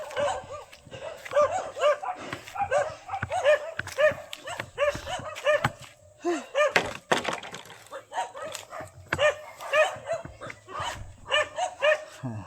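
Two or more dogs on a roof bark insistently nearby in quick, uneven bursts, with occasional yips and a clatter mixed in.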